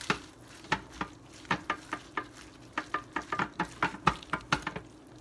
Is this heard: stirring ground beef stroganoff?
yes